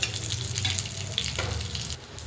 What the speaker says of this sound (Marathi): आता त्याच तव्यात मी मिरच्या टाकून घेणार आहे.